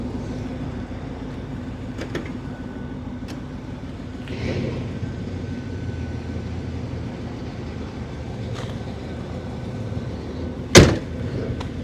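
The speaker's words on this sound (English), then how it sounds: "Door closes really solid. It's a really big, long, heavy door" A long, heavy door on a 1981 Pontiac Trans Am with a 4.9L engine shuts with one solid, close thud near the end, after a stretch of quiet outdoor background and a few faint clicks.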